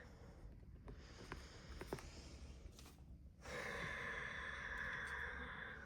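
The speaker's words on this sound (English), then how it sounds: "let's take a deep breath" A slow, audible breath drawn in and released during a calm guided meditation session, quiet and close, followed by a steady soft hiss of background noise.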